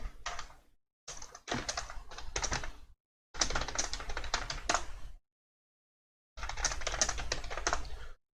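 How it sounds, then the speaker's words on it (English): Rapid clattering of keys on a computer keyboard, typed in several bursts separated by short pauses of silence, close and fairly quiet. "If y'all heard that was me typing,"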